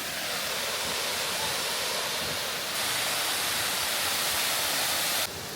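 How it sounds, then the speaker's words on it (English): Constant roaring rush of a waterfall, loud and steady with no breaks, filling the whole soundscape without any voices. "we found a waterfall, and it's absolutely stunning"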